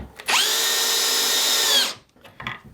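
A Huchika hammer drill bores into a workpiece hung over a table edge, spinning up sharply and holding a loud, close, high whine for about a second and a half before cutting off, followed by a few faint knocks.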